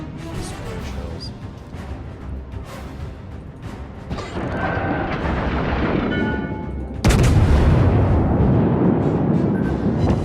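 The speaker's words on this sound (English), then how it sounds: "Concentrate fire on the enemy warship." Warship artillery in World of Warships: repeated heavy gun blasts and booms over a rumbling engine bed, growing louder until a big close salvo near the end dominates.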